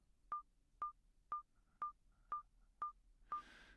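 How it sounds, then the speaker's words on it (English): A simple built-in metronome in a home-made virtual 8-track reel-to-reel recorder ticks out seven evenly spaced, sharp beeping clicks at a steady tempo, fairly faint and alone. "it's got a built-in click here, quite a rudimentary one, just a metronome to keep things synced up"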